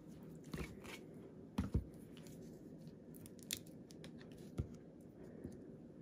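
Scissors cut two-sided Stampin' Up paper in a quiet room, making a few distinct crisp snips spread out with pauses between them and no talk.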